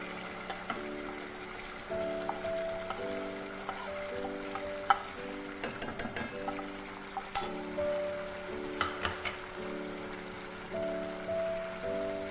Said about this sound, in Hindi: मिक्स करेंगे इसको अच्छी तरह। फ्लेम मैंने मीडियम ही रखी है।